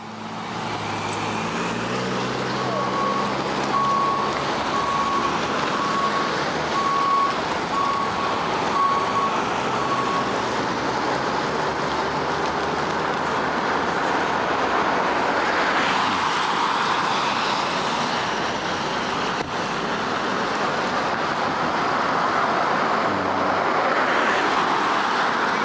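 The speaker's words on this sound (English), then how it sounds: "So here's a tow truck coming to steal someone's car." A tow truck idles loudly on a street at night, its engine rumbling steadily under traffic noise while a regular series of reversing beeps sounds through the first half.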